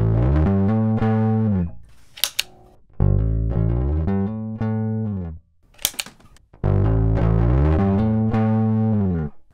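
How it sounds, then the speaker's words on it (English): Bass guitar through a fuzz pedal with the blend all the way up and the fuzz at halfway, playing a loud riff of sustained, gritty distorted notes in several phrases separated by short gaps with string clicks, no talking. "Another cool option is with the blend all the way up and the fuzz at halfway,"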